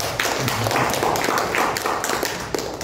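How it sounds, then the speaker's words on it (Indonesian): An audience at an Indonesian talk on artificial intelligence and journalism claps together, a continuous dense patter of many hands filling the room, fairly loud and steady throughout. "Tepuk tangan semuanya"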